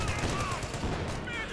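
Gunfire and explosions in the Company of Heroes 2 strategy game, a brief dense burst of rattling shots and blasts layered together in a continuous busy battle din.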